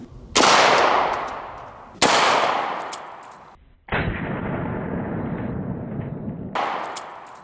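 An Armory KB5 9mm pistol fires Colt 124-grain jacketed hollow-point rounds, giving several loud, close sharp cracks with short echoing decays, spaced a second or two apart, outdoors.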